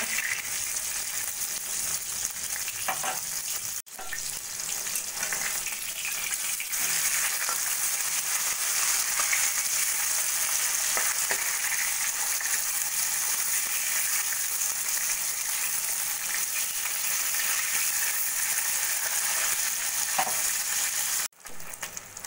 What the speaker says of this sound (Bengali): মাছের একটা পিস ভাজা হয়ে গেছে,